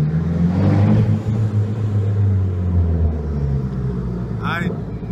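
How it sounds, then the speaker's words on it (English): Turbocharged SR20 engine in a Nissan S13 240SX rumbles steadily up close with a low, continuous drone, while a brief rising whistle from turbo spool appears near the end; distinct exhaust pops are not clearly separable. "You can hear the pops, and you can hear the turbo spool."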